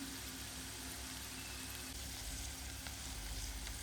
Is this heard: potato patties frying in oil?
yes